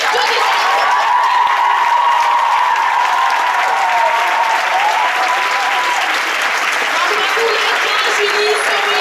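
A school audience gives sustained applause for a shaved-head challenge, the clapping steady and full throughout while a whistling tone and excited voices rise above it.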